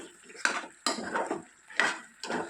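Spoon scraping and clanking against a pot in four distinct strokes while chilli powder is stirred into a mutton masala curry, close and fairly quiet with no voices.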